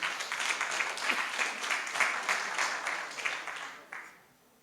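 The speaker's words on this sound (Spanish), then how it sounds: "Voy a pedir un fuerte aplauso para que él inicie con su saludo." A university alumni gathering breaks into applause, dense clapping from a seated audience that holds steady and then tapers off near the end.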